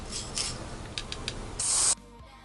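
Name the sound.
spraying a cake with spray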